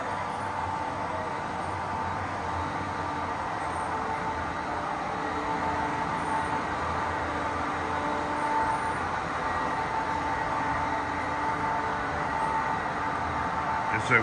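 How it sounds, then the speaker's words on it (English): Steady low rumble of a long train rolling into a siding nearby, continuous and even throughout with no break in the noise. "It's a long train."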